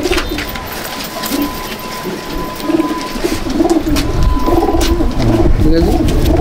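Pigeons in a loft coo repeatedly in low, rolling phrases close by, building louder toward the end, over a busy background of wingbeats and shuffling.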